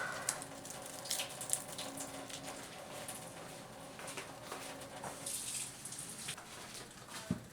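Tomatillos are rinsed under a running tap, giving a soft continuous water hiss with small splashes and occasional clinks, fairly faint and with no voices over it.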